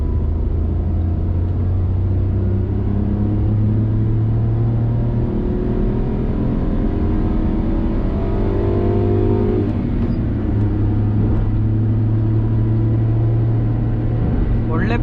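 A Maruti Suzuki Alto 800's small engine running steadily, a loud close droning rumble with a faint rise in pitch partway through, like a go-kart, held throughout without pause.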